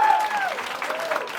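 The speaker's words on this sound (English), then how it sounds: "Round of applause for them, guys." Comedy club audience clapping briefly for audience members during a stand-up show, a short burst of applause with a voice speaking over it.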